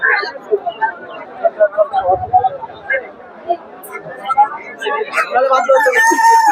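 Busy poultry market bustle with roosters crowing, hens clucking and ducks among overlapping chatter, birds calling repeatedly at close range.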